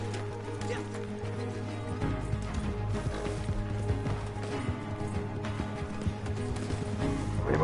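Horse hoofbeats in Red Dead Online, a steady clip-clop running under a dense bed of game music and ambience, with voices talking over it.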